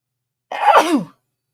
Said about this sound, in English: I'm getting ready to sneeze now.